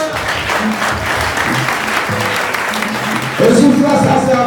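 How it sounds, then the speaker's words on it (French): Church congregation at a French-language revival prayer service applauding and cheering, a dense steady wash of clapping that swells louder near the end, with voices mixed through the crowd. "Acclamez l'Éternel."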